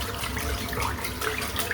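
Running tap water rinses out a shaving brush in a sink, a steady close splashing flow that stays even throughout with no voices.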